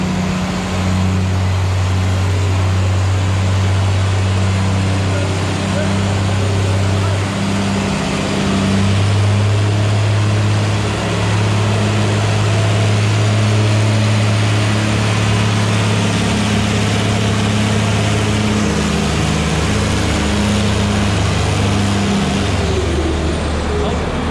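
A John Deere 4010 diesel tractor engine idles and runs with a steady low, chugging rumble throughout, its pitch shifting slightly over time, at a tractor pull.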